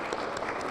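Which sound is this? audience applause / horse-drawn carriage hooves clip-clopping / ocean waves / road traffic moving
audience applause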